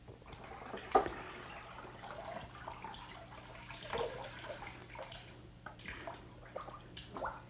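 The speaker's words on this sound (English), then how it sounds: "He agitates the unit in the water sufficiently to make sure that the rinse is thorough." A firefighter's SCBA breathing apparatus and mask are sloshed about in a bucket of rinse water, giving soft intermittent splashes and swishes over a low steady hum.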